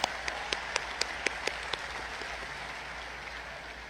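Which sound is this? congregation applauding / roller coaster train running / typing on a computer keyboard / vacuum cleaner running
congregation applauding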